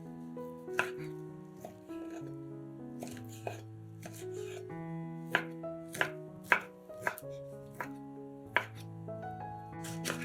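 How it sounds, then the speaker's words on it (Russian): A knife chops ham into small cubes on a board, sharp irregular knocks spaced through the clip, close and fairly quiet, while soft sustained music plays underneath. "Для начинки берем 150 грамм ветчины и нарезаем ее небольшими кубиками."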